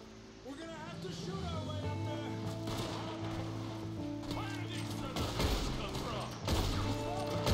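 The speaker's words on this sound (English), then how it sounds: "We're gonna have to shoot our way up there!" A shootout in Red Dead Redemption 2: gunshots crack in scattered bursts amid a busy mix of game sounds, with voices talking over much of the exchange.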